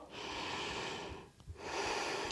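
Slow, close nasal breathing during a vinyasa yoga session, a long airy inhale and exhale with a brief pause between, soft and alone with no talk.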